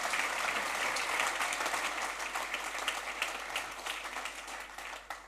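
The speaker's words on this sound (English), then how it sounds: "So thanks a lot for your help, and give a big applause." A conference audience at the TYPO3 Developer Days in Karlsruhe gives dense, sustained applause that fills the hall at a fairly distant level and slowly thins out toward the end.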